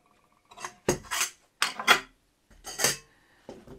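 Camping pot set and a small folding stove being packed together, giving several distinct metallic clanks and rattles in short bursts, close and fairly loud with pauses between.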